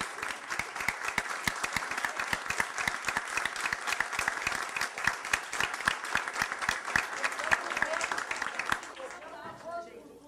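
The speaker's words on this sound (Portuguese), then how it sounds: "eu queria que a gente, de pé, saudasse com palmas isso que essas três pessoas têm feito" A standing audience applauding three honorees at a debate event, fairly distant crowd clapping with crisp individual claps, sustained for about nine seconds and then fading out under quiet voices.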